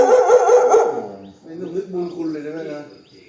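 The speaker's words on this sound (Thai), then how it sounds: "แล้วมาเห่าเจ้าของบ้าน" A house dog, one that has been chewing garbage, gives a loud, drawn-out harmonic bark or bay near the mic in the first second, then a person speaks over quieter sounds.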